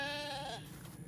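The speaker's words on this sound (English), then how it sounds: "the annoying bay of the sheep that take all the peace away" Sheep bleat on a farm, a single wavering, fairly faint call that fades out within a second.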